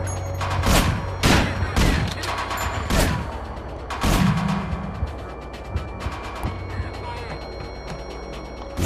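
Gunfire rings out in the video game Manhunt as a player fights soldiers, with several loud, sharp shots spaced a second or so apart, then quieter pops and background game noise.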